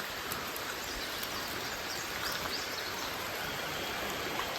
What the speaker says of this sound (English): Check out this peaceful river we're walking along.